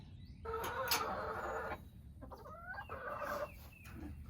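Backyard chickens cluck and squawk up close at morning feeding time, with mealworms and scratch handed out, in a busy run of short calls and a few rising notes.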